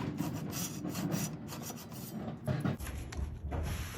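Coarse file teeth rasp against a segmented wooden pen blank in quick, repeated scraping strokes, close and fairly quiet, with brief pauses between passes.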